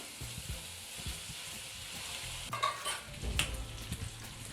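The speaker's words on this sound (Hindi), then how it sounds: "आप इसको अच्छे से मिक्स करें ताकि जो हमने पेस्ट डाली है उसका कच्चापन भी दूर हो जाए।" Spice paste for cauliflower biryani frying in a pan, with a steady sizzle under intermittent scraping and stirring strokes and a few clinks of the utensil against the pan.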